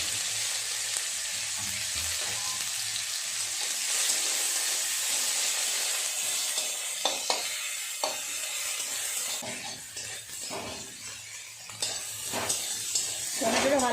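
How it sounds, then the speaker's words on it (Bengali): Tomatoes cooking down for a tangra fish curry sizzle and hiss steadily in a pan while a spoon stirs them. Scrapes and taps come near the end, with no talking. "টমেটোটা ভালো করে নেড়ে চেড়ে একটু গলিয়ে নিয়েছি।"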